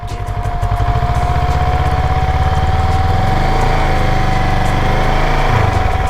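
A Kawasaki ER6N motorcycle engine is held in gear with too much throttle, giving a loud, close, continuous buzzing drone that stays steady from start to finish.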